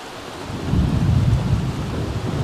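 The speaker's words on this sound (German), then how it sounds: "Das gewittert ganz schön." Thunderstorm in The Sims 3: heavy rain hisses steadily while a deep rolling rumble of thunder swells and lingers, with no voices over it.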